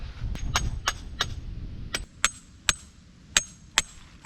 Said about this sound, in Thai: แล้วก็ตอกลงไปได้เลยทั้ง 4 มุม